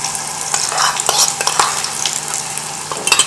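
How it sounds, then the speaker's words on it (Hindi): Onions frying in a pot, loud crackling sizzle with repeated scraping stirs and light clinks of a utensil against metal. "2 मीडियम साइज़ के प्याज है, स्लाइसिस में कटा हुआ, इसको फ्राई कर लेते हैं"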